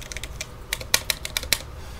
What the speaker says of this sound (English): Keys seem relatively quiet.